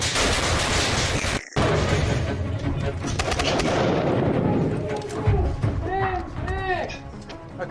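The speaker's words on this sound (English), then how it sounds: "Once inside the building, the team then use stun grenades to disorientate whoever." A multi-bang stun grenade of the nine-banger type goes off in a rapid series of sharp, loud blasts, with a voice talking over the bangs and the echoing reports.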